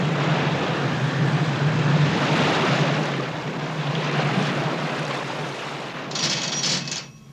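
The research ship Calypso churns with its propellers running in reverse and outboard motors thrusting, a broad steady rumble of engine and water wash, with a few brief metallic clinks near the end.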